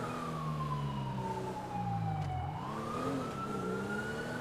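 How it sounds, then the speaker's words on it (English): Emergency vehicle sirens wail in long rising and falling sweeps, somewhat distant, heard from a parking garage, layered over a low rumble of traffic, with no talking. "I still hear hell of sirens down here"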